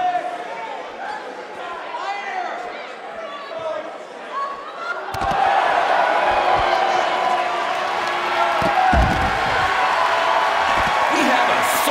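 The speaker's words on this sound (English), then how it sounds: "We have a sold-out, record-setting crowd here for BCW tonight." A large arena crowd in the WWE 2K19 wrestling video game swells from scattered chatter into a loud, sustained roar of cheering and whooping, with a voice speaking over it and sharp thuds near the end.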